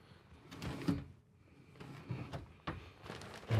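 A full-extension drawer in a 2023 Newmar Super Star 4061 motorhome slides open and shut a few times, smooth rolling glides ending in soft thuds, close up with no talking.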